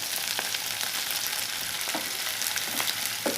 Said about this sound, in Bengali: আদা রসুনের পেস্টটা দিয়ে দেবো।